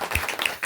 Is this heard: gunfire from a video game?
no